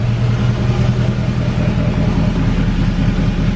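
A 2020 Duramax truck engine runs smoothly just after startup, a loud, constant low idle rumble with a steady throb that holds throughout.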